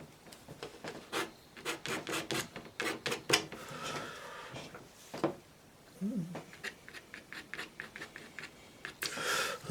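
A tool scrapes damp watercolour paint off paper in a landscape painting, a series of faint, short rasping scratches in irregular strokes, quiet and close.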